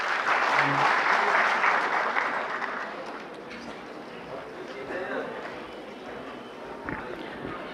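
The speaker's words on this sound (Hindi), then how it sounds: "एक बार तालियों से उनका स्वागत करेंगे प्लीज़" An audience at a workshop applauds steadily, a dense wash of clapping that fades slightly over several seconds, with some voices underneath.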